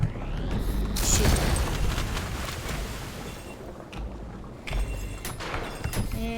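Heavy booming gunfire from the video game Ultrakill, loud dense blasts with rumbling low end and mechanical clatter, fading briefly before more shots.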